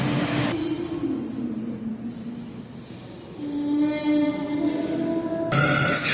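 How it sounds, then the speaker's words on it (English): A commuter train bound for Highbridge passes a quiet station, with a moderate rumble and tonal whine of motors that fades and rises again, then a sharper hiss near the end. "That's us right there. The 3 o'clock train to Highbridge."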